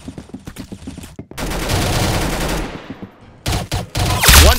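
Roblox Arsenal gunfire: a quick string of sharp single shots, then a long loud sustained burst of rapid fire that fades, followed by more heavy shots closing on a loud blast, all close and with no voices.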